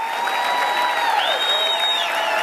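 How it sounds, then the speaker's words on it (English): A stage audience applauds and claps steadily as new team members are welcomed up, a continuous wash of hands clapping with a few whistles rising over the crowd. "Keep your hands clapping for all the new family members joining this team"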